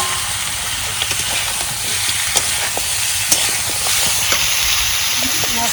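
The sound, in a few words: spices sizzling in hot oil while tempering fish curry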